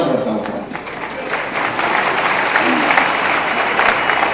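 Enthusiastic audience applause at a Hindi kavi sammelan poetry recital in Indore, a thick wash of clapping that swells and holds strong throughout, with crowd noise mixed in.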